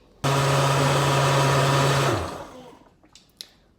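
An electric kitchen blender whirs loudly and steadily for about two seconds while blending a Haitian epis spice mix, then winds down, followed by faint clicks and handling sounds.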